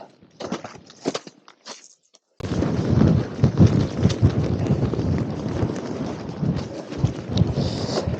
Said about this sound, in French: Bon, c'est la météo en même temps, le vent.